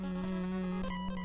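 Healing mace effect from the Willow video game, a sustained eerie tone over droning, unsettling game music, with brief swells and a shimmering flourish near the end, steady and moderately quiet.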